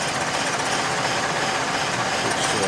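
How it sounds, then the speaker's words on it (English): Drivetrain of an electric-converted HHR car turning with the driver's side brake dragging: a loud, steady, rough grinding and rushing noise that continues without a break, with no talk. "The dragging noise you hear is the brake on the driver's side."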